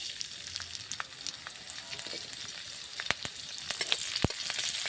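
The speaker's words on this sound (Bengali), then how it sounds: "গরম হয়ে গেছে, তো এর মধ্যে কাঁচা লঙ্কা কুচি আর একটু রসুন কুচি দিলাম।" Chopped green chillies and garlic sizzle in hot oil, a steady crackling hiss with sharp pops and spatters rising toward the end, close and fairly loud with no voices.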